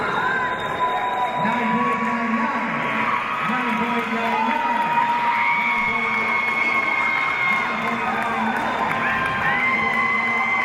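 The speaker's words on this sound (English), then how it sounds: "Man, the cheering is so loud." Loud crowd cheering and shouting fills a martial arts black belt finals at the US Capitol Classics & China Open, a dense steady roar with whoops rising over it throughout, and voices talking underneath.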